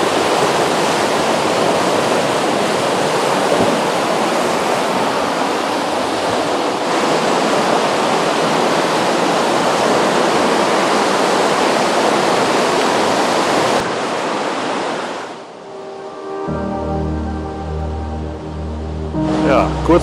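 Waterfall in the Vintgar gorge roars as a steady, loud rush of water for most of the time, then cuts off abruptly; a person begins talking afterwards.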